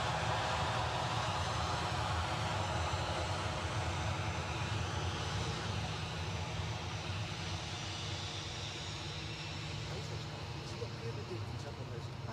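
The engines of a Boeing 757 airliner at Edinburgh make a broad, steady jet roar that fades slightly near the end, with people talking nearby.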